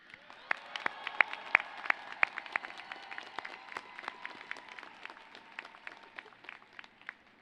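Graduates at a 2024 CSUN commencement for the Mike Curb College of Arts, Media, and Communication applaud and cheer for faculty and staff, a steady dense clapping with sharp individual claps standing out, loud and sustained without speech.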